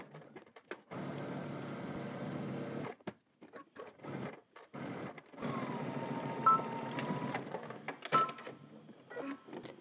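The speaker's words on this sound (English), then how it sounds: "we're going to head to the machine and stitch from the top all the way down to the bottom here" A sewing machine runs the side seam of a sweatshirt in several separate bursts of whirring stitching broken by pauses, with a few clicks and handling noises between runs, near but fairly quiet.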